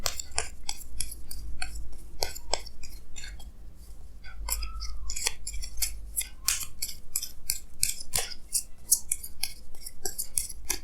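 Tarot cards drawn one after another from a deck, giving a steady run of crisp, close snaps, flicks and shuffling clicks for several seconds with no talking.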